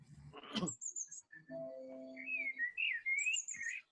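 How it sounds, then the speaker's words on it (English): A blue tit and a blackbird sing faintly in a quiet setting, giving short whistled phrases and high chirps that come and go, with no voices. "the songbird has returned. The blue tit and the blackbird."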